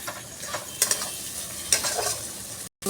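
Ground spice paste, chopped tomato and capsicum fry in a pan for an egg and potato methi curry, giving a close, steady sizzle broken by a few sharp spatula clacks and a brief silent gap near the end.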